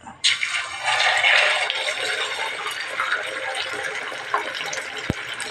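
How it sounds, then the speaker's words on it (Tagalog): Beaten egg poured into a hot oiled pan on a breakfast stove, giving a sudden loud sizzle and hiss that settles into a steady close frying crackle with a small tap near the end. "ibubuhos na po natin yung itlog"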